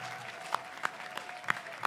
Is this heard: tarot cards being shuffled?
no